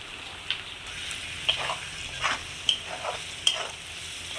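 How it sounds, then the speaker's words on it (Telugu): Prawns frying in a pan with chilli powder and garam masala give a steady close sizzle, broken by several sharp scraping stirs of a utensil against the pan. "ఇదంతా గుజ్జంతా ముక్కలకి పట్టేదాకా మనం ఫ్రై చేసుకుంటూ ఉండాలి"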